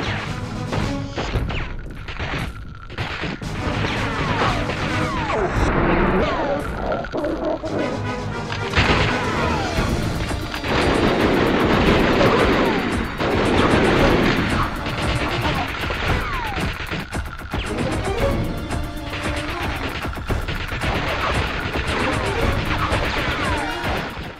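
Relentless gunfire and explosions from the PS2 game Dead to Rights, loud rapid shots, crashes and booms layered densely throughout, with occasional faint talk underneath.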